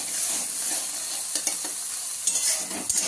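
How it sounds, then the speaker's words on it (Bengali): Freshwater snails fry lightly in oil with salt, giving a loud, continuous sizzle up close with repeated stirring scrapes and clatters and no voices. "একটু নুন আর গুগলিটা ভেজে নেবো অল্প করে।"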